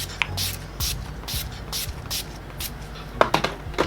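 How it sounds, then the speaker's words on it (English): A series of short, hissing spray bursts repeats at a steady rhythm, close and fairly soft, followed by a few light clicks and taps. "I want to finish it with some setting spray."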